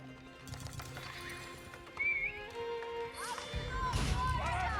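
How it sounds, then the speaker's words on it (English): Horse archers galloping in an Age of Empires-style real-time strategy game with the Abbasid Dynasty: thudding hoofbeats and clip-clop with horse neighs and whinnies building toward the end, mixed with game effects while a commentator talks over it. "Now the horse archers are coming here."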